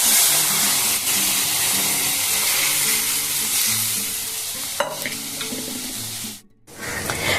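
Mung and arhar dal fry in a pan, a loud, dense sizzle that holds steady for several seconds, with a few light knocks before cutting out abruptly for a moment and resuming.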